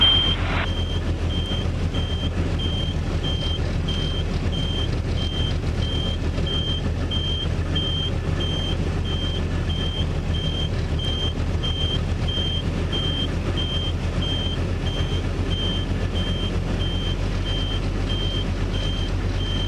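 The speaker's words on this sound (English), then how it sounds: "The beeping lights are because I don't have the landing gear down." A model aircraft's landing gear warning gives a regular, evenly spaced electronic beep throughout, over a steady low engine-like hum at an R/C flying field, with no talking.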